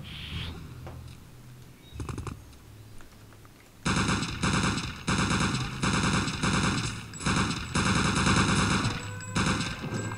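Rapid automatic gunfire from the World War II shooter game Return to Castle Wolfenstein, a few scattered shots followed by long loud sustained bursts with short pauses between them.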